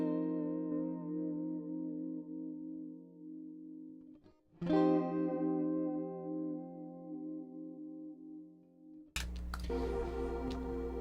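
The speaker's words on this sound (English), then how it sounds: "This is the guitar going straight into the interface. There is no amplifier, no pedals, no effects, no nothing whatsoever." Dry electric guitar chords recorded straight into an audio interface with no amplifier, pedals or effects: three strummed chords, each left to ring and decay, the last one struck more harshly, with no voices.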